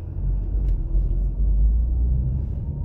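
Heavy road traffic on General Paz in Argentina makes a dense, steady rumble of cars and engines, close and loud throughout, without voices.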